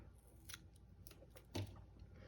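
Scissors cutting a glue dot in half: a few faint, close snips and clicks of the blades, with one slightly louder cut partway through in an otherwise quiet setting.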